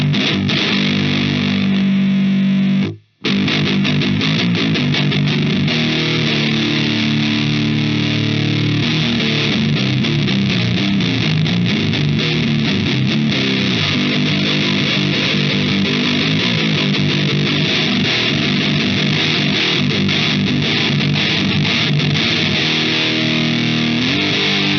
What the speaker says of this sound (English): So let's give it some distortion now, because it's down at 0, and just see how it reacts